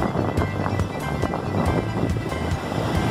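Strong ocean waves at Praia das Dunas in Cabo Frio, Rio de Janeiro, a continuous rushing roar of surf close by, mixed with gusting wind buffeting the microphone.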